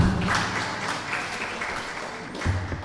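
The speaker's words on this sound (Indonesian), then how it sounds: "tepuk tangan buat Munarman" A crowd applauds for Munarman in a moderate round of clapping that holds steady and swells slightly near the end.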